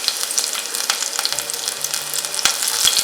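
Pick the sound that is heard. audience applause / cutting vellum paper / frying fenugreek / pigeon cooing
frying fenugreek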